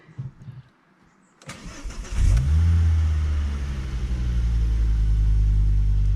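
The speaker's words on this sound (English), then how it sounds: "Do a bit of a cold start here" A Ford Focus ST/XR5 with an Xforce catback exhaust cold starts: the engine cranks briefly, catches and settles into a loud, steady rumbling idle after a quiet moment.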